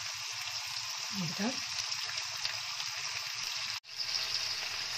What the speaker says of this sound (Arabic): ونخليه يزيد يتقلى مع هذاك البصل